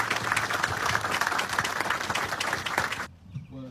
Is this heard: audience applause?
yes